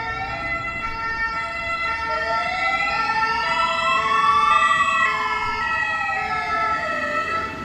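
An ambulance siren wails continuously, its pitch sweeping up and down in long slow cycles, loud and steady over a rushing road-noise background, with no pauses throughout.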